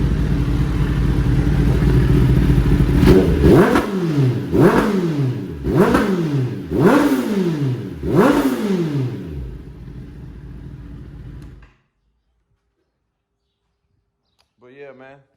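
A 2021 Kawasaki ZX10R sport bike revs hard and loud nearby, climbing through five quick rising bursts with clipped GP-shift upshifts between them, then cuts off into silence, and a brief voice comes in at the end.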